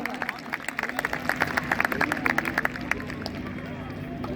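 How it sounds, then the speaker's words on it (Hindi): Loud, dense applause ripples through a crowd at a college games closing ceremony at Government Polytechnic Kanpur, steady clapping building slightly in the middle with voices mixed in. "पर जोरदार तालियां."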